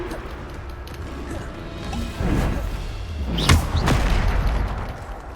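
A Bombarda spell explosion in Hogwarts Legacy lands with a whooshing build-up and heavy crashing booms midway, followed by rumbling impact debris in a combat scene.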